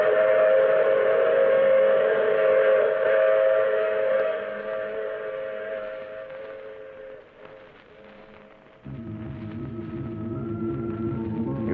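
A train in an old-time radio drama rumbles along with a sustained whistle-like tone, steady and fairly loud, the pitch dropping and the rumble shifting partway through.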